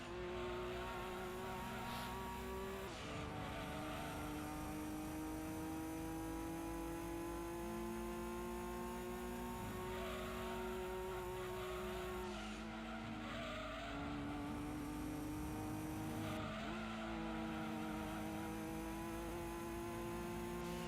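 A TVR Sagittarius racing in Gran Turismo 2, a continuous loud engine drone rising and dropping through gear shifts, with squealing tires and skids layered on top throughout.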